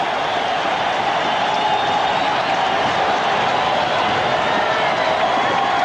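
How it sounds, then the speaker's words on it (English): A dense, steady roar of a large football stadium crowd at a 1983 Cardinals versus Saints game, continuous and loud with no clear individual voices. "You hear that crowd?"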